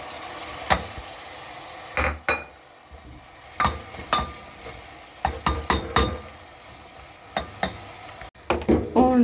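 Green beans and tomato hitting a hot pan, a steady sizzle broken by repeated scraping and clinking stirring strokes, close and fairly clear, no voices.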